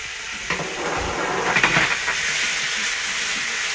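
Beef sausages sizzle in hot fat in a frying pan, a steady close hiss and crackle with a few louder spits, with no voices over it.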